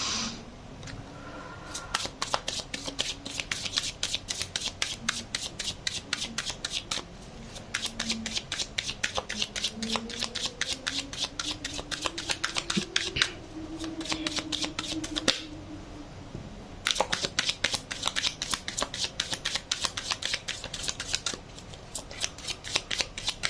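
Tarot cards shuffled by hand in long bursts of rapid riffling clicks, separated by brief pauses, close and fairly loud, with a faint low hum underneath and no talking.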